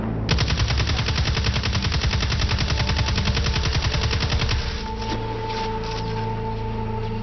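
Rapid automatic weapon fire from Destiny 2 rattles loud and close in a dense, steady stream, then cuts off into a brief mechanical tail and lingering hum.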